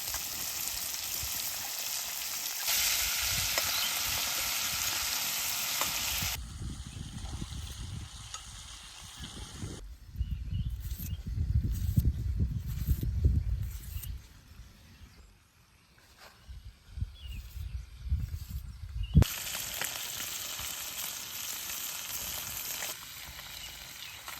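Fish and crab fry together in a pan outdoors. A loud sizzle at the start drops away midway, where low rumbling handling noise takes over, and then the strong frying hiss returns.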